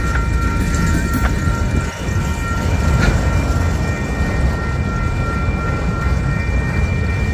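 A freight train of Union Pacific and Baramax auto rack cars rolls past steadily, a continuous loud rumble of wheels and cars with brief horn or squeal tones, no talk.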